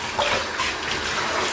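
Shower water runs and splashes continuously over a dog named Armani during bath time at home, a close, steady gush with slight fluctuations and no one speaking.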